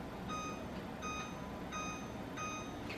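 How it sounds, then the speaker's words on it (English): A kitchen timer being set for baking sourdough bread beeps in four evenly spaced bursts, each a bright, clear electronic tone, over faint background hum. "I'm going to set the timer for 10 minutes."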